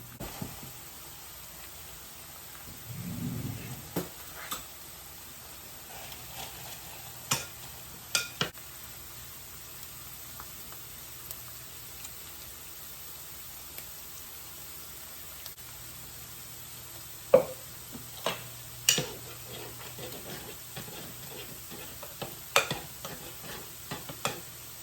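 Hash brown potatoes fry in a pan with a quiet, steady sizzle, broken by occasional sharp clinks and scrapes of a utensil, with no talking.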